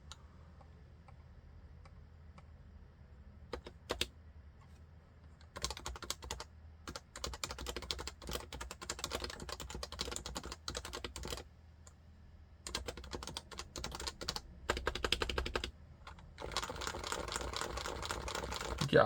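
Keys clack in quick, uneven bursts on an HHKB Classic keyboard, with rattly, clicky strokes close up and short pauses between runs of typing.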